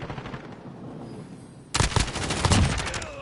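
A sudden burst of video game gunfire erupts after a quiet stretch, with loud, closely spaced shots rattling on for over a second.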